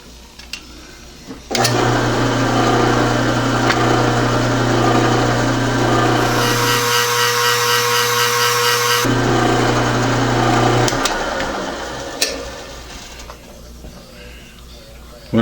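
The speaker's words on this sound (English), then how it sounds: "And just run a center drill down there." A machine drives a center drill down into metal for a four-way tool post clone, its motor starting abruptly and running as a loud, even whir that changes tone partway before spinning down.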